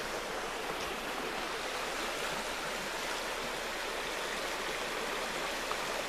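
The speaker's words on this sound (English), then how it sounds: "that's the East Fork River that I just showed you coming down into the Chattooga River" The East Fork River pours steadily into the Chattooga River, a continuous, full rushing wash of flowing water, close and unbroken with no voices.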